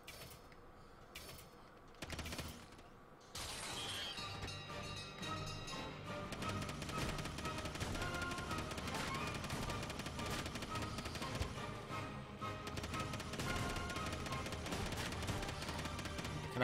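Rapid target-shooting gunfire at a Final Fantasy XV carnival shooting gallery, dense bursts of shots over a continuous loud bed of game music and effects.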